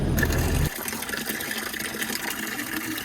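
Coolant gushes and trickles steadily from disconnected truck cab heater pipes while the system is drained, a continuous close liquid pour after a brief louder burst at the start, on a cold windy day.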